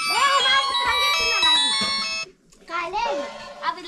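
A bright electronic ringtone plays loudly, broken by a short pause, while a voice chatters over it.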